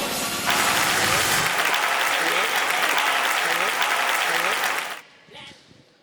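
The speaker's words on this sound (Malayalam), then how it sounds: "നല്ലൊരു കൈയടി കൊടുത്തുകൊണ്ട് നമുക്ക് അച്ഛനെ ഈ ഒരു വേദിയിലേക്ക് സ്വാഗതം ചെയ്യാം." An audience at a school stage event claps loudly to welcome a speaker, a dense sustained round of applause that fades out abruptly near the end, with a few voices faintly audible.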